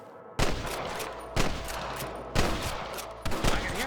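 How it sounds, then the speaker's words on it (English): Four loud gunshot volleys from a Red Dead Redemption shootout, each a sharp broadband blast with a brief rumbling tail, spaced about a second apart over steady background noise. "I can hear more gunshots."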